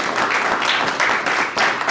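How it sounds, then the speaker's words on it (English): Sustained applause from a conference audience at a rural New Mexico veterans transportation event, a dense, steady wash of many hands clapping throughout at moderate loudness. "A round of applause for all the presenters."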